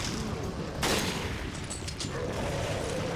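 Enemy gunfire from the video game Resident Evil Revelations, in Raid Mode's Abyss crew quarters: a burst of loud, dense shots around the one-second mark over steady game ambience and scattered impacts.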